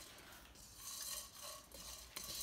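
Cumin and fennel seeds dry roast in a pan, stirred with quiet, continuous scraping and soft rattling, faint and close with no talk.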